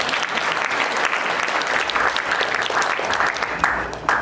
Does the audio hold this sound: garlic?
no